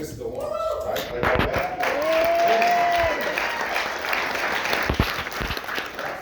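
Applause from an audience at a launch event, steady clapping filling the clip with a tonal sweep and voices mixed in over it.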